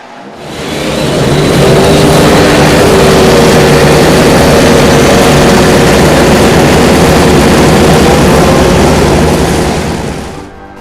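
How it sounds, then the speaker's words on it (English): IndyCar race car engines fire up together at the Long Beach Grand Prix street race, building to a loud, sustained, dense roar that holds for several seconds before easing off. "Drivers, start your engines!"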